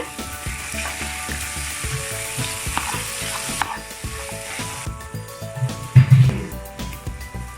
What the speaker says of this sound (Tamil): இந்த முந்திரியெல்லாம் நல்லா மிக்ஸ் பண்ணி விட்டுருங்க